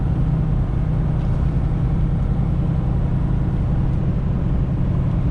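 A 2021 Ford F450 truck cruises on a highway at about 99 km/h, giving a loud, steady low rumble of engine and road noise from inside the cab with no break.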